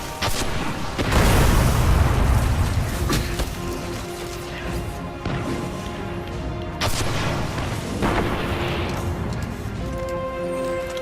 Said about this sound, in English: we shall use our rocket launcher to pretty much kill them